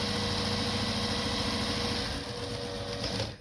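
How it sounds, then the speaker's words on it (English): A sewing machine runs steadily while stitching a curved edge on a small batik apron, a close, continuous whirring hum that drops off abruptly near the end. "and then we sew it"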